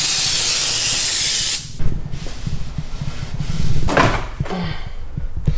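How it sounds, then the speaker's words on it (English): A loud aerosol brake cleaner spray hisses steadily for about a second and a half on a dirty BMW V10 engine part, then stops, followed by clattering handling noises and a brief second hiss. "I'm gonna spray it with some brake clean."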